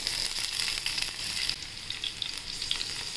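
Green chillies hit hot oil for a dry garlicky fenugreek stir-fry, bursting into a loud, crackling sizzle that eases slightly after the first moment. The sizzle is near and continuous, with no voices.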